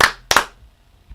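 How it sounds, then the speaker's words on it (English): Two sharp hand claps in quick succession, close and loud, followed by quiet. "That deserves 2 claps"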